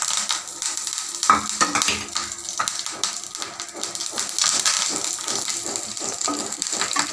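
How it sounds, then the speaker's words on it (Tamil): Curry leaves fry in a pan for nilavarai keerai chutney, giving a steady close crackle and sizzle with irregular stirring scrapes and clinks throughout. "இப்போ கொஞ்சோண்டு கொஞ்சோண்டு நம்ம கருவேப்பிலை போட்டுக்கலாம்"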